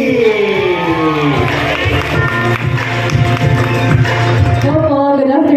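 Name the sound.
crowd applauding and cheering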